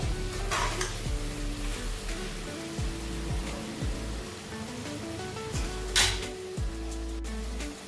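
Chicken being mixed with yogurt in a pot for chicken biryani, with soft stirring scrapes and a faint sizzle running throughout, plus a couple of brief sharper clinks, all under a steady background music bed.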